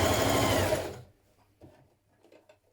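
A sewing machine stitches a sleeve into a knit dress in a loud, fast, buzzing burst for about a second, then stops, leaving only faint handling clicks and rustles.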